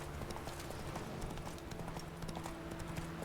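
Roach, Geralt's horse in The Witcher 3, galloping, a fast steady clip-clop of hooves under game music and ambience, no talk.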